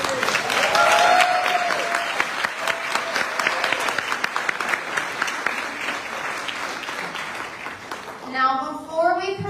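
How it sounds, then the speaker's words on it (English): An audience at the 2023 Next Generation Indie Book Awards ceremony applauds the winners and finalists with a full, sustained burst of clapping that gradually thins out before a voice speaks at the end. "Please join me in giving all the winners and finalists a round of applause."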